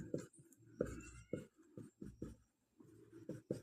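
A hand-written maths solution being worked out, pen or chalk strokes scratching in short irregular bursts, close but soft, with no voice over them.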